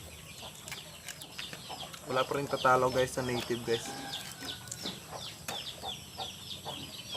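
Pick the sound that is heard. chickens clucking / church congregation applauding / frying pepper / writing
chickens clucking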